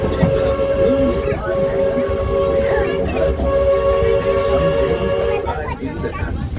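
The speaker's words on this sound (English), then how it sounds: "I'd be the conductor of this train." Steam train of the Walt Disney World Railroad at Magic Kingdom, a steady rumbling engine with a sustained tonal whistle-like hum, heard amid crowd babble and voices.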